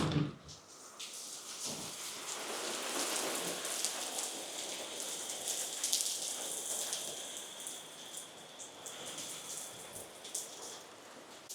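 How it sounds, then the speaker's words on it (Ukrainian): Heavy winter rain pours near Lisbon, Portugal, a dense continuous hiss of drops drumming on outdoor surfaces, steady and enveloping with occasional louder splashes and no talk. "У нас зараз сезон дощів"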